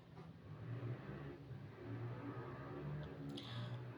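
A car engine revs somewhere outside, a faint, low, distant drone that swells and eases a few times in the background.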